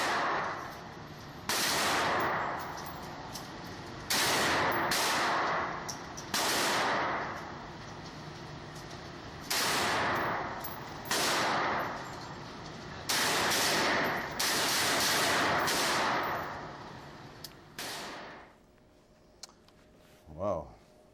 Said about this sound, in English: a little teeny clip of Weatherdude shooting the Bushmaster so you can get an idea behind it as to how powerful that gun is